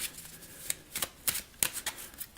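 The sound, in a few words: shuffling a deck of game cards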